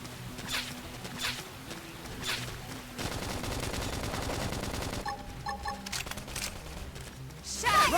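Gunfire in the video game Xenoblade Chronicles X: a few spaced shots give way to a sustained rattling fusillade of rapid fire, then scattered sharp reports and clanks, all dense and fairly loud with faint voices in the mix.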